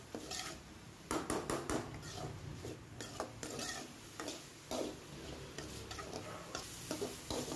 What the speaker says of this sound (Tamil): அந்த அளவுக்கு வர்ற வரையும் நல்லா வதக்கி விட்ருங்க